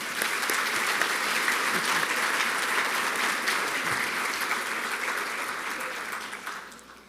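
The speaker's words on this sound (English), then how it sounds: "Okay, now we can give them a round of applause." An awards-event audience applauds its sponsors in a sustained, dense burst of clapping that holds steady for several seconds before tapering off at the end.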